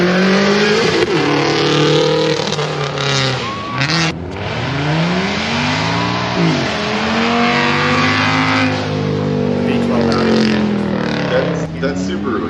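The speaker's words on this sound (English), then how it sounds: "That Subaru hatch sounded." A Subaru hatchback engine revs at a car show, loud and close, with repeated rising and falling sweeps of throttle and brief drops between blips.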